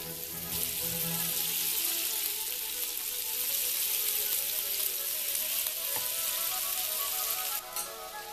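Bacon-wrapped asparagus sizzles and fries steadily in a pan, a dense continuous crackle with brief clinks as pieces are shifted, no voices.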